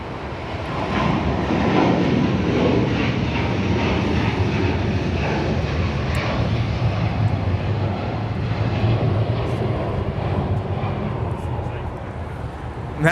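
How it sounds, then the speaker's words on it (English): A Qatar Airways Airbus A350-1000 takes off from LAX bound for Doha, its engines a broad, steady roar that holds loud for the whole stretch and eases slightly near the end, with voices murmuring faintly underneath. "That was Qatar Airways Flight 740 departing to Doha on the A350 1000."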